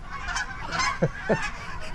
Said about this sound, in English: wow, that's a lot of geese